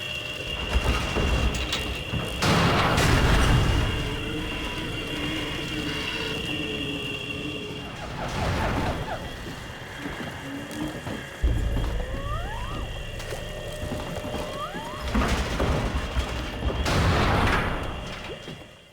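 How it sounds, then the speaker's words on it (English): Dull, heavy bangs echo from the storage room in World at War Zombies, spaced several seconds apart, over an eerie droning ambience with faint whining tones. "In the doctor's quarters and in the storage, you can hear banging."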